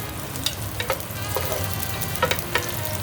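Garlic frying in a pan gives a steady sizzle, broken by a few sharp crackles and stirring scrapes, with no talking.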